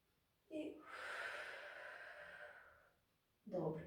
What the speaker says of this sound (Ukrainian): І з видихом ще двічі. Вдих, розкритись. І з видихом округлитись.